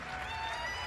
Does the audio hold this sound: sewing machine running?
no